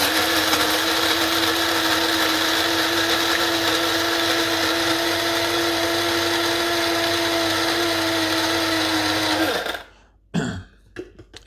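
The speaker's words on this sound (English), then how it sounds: "all the nuts and seeds and things have gone into a spice grinder, and that's a coffee grinder" A loud, steady high-pitched whirring coffee grinder grinds nuts and seeds continuously for several seconds, then cuts off abruptly, leaving a few faint rattles and clicks.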